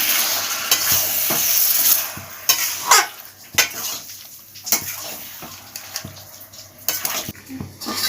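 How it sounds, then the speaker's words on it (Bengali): Chicken pieces fry in a pot with spices and added water. A loud sizzle fades as stirring knocks and scrapes of the spoon against the metal repeat irregularly, close up. "যে মশলাটা লেগেছিল গামলার মধ্যে সেটা দিয়ে দিলাম জলটা দিয়ে মাংসটা ভালোভাবে কষে যেতে হবে"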